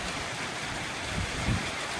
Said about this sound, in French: La pluie ça va tant qu'il n'y a pas le tonnerre.